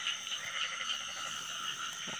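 A large cricket-like insect, two to three times the size of a cricket, gives a continuous dense buzzing trill. The call is steady and fairly loud, and it carries on without a break.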